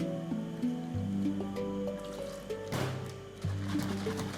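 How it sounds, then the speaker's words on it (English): Mineral water poured into a yogurt and egg mixture, a close, gentle liquid trickle with soft gurgles and a splashy burst partway through, quiet and without speech. "Then, in goes the mineral water."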